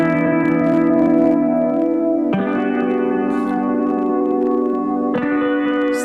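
Simple strummed guitar chords loop through a Fractal FM3 Plex Delay block. The sustained chords are thick with echo and shimmering repeats, and the harmony shifts twice over the loud, continuous passage.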